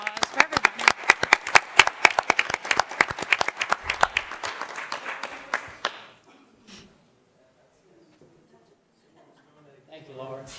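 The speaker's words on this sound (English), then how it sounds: "a round of applause for everybody" Audience at a council meeting breaks into loud, dense applause that rolls on for about six seconds, then cuts off into near silence, with a few faint voices returning at the end.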